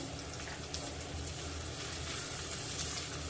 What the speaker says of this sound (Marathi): हे सुद्धा परतून घेऊया तुम्ही बघू शकता कांदा गुलाबी होत आलेला आहे